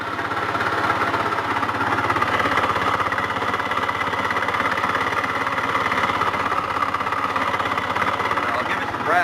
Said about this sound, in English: it's just general, like, mechanical engine noise,